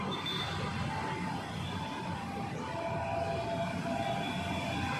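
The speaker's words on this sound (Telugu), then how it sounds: "ట్రైన్ వెళ్తుంది, ఆ సౌండ్ వస్తుంది." A train rolls past near the Malakpet rail underbridge and metro station in Hyderabad, a steady broadband rumble that holds at a constant loudness for the whole stretch with no voices over it.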